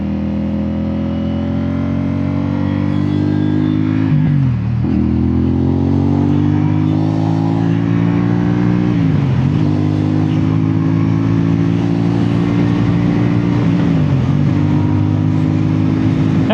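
A CFMOTO 450SS motorcycle pulls onto a highway with a loud, steady mid-pitched engine drone. Its revs climb through the gears, with a brief dip at each shift, and there is no talk.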